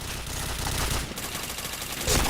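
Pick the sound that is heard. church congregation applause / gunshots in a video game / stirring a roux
gunshots in a video game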